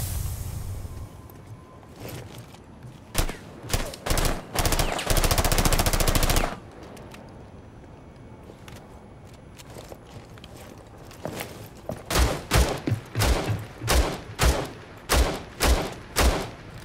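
Gunfire in the video game Rainbow Six Siege: scattered single shots, then a loud sustained automatic burst around the middle, followed by a steady series of evenly spaced heavy shots near the end, with no talking.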